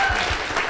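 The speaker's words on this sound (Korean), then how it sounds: "박수 한번 주시죠." Audience applause at a live podcast recording, a short dense burst of clapping filling the room at steady loudness.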